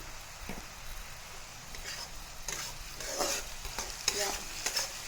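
Fiddlehead fern flowers frying in a pan with salt and turmeric, stirred with soft scraping strokes over a steady close sizzle, the stirring growing busier toward the end.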